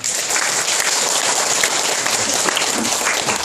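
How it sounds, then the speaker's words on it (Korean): Sustained applause from a church congregation during a holiday service, a dense steady wash of many hands clapping close and loud throughout, with no talk over it. "다시 한번 박수 부탁드리겠습니다"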